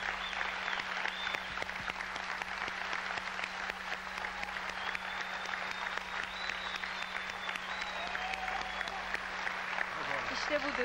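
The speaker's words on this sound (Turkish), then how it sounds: "Gerçekten ayakta alkışlanıyoruz." Standing ovation from a theatre audience, with dense, steady clapping that fills the whole stretch at even volume and a low constant hum beneath.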